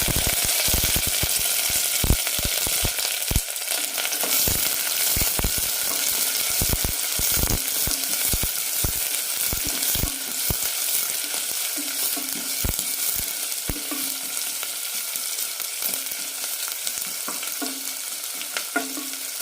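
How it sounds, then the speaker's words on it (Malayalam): Sliced onion and curry leaves fry in oil in a pressure cooker after mustard seeds, a loud continuous close sizzle with frequent sharp pops and crackles throughout, no talking. "കടുക് പൊട്ടിക്കഴിയുമ്പോൾ സവാളയും കറിവേപ്പിലയും ഇടാം."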